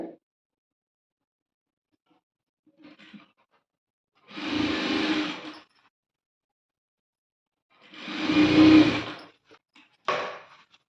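A sewing machine stitches a school uniform coat in two loud bursts of about a second each, whirring near the mic, with shorter faint runs before and after and silence between.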